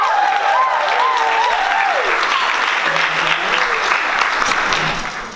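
Loud, continuous applause from a student leadership conference crowd honoring organizers and volunteers, thick clapping with a whistle-like cheer near the start, holding steady before tapering at the end.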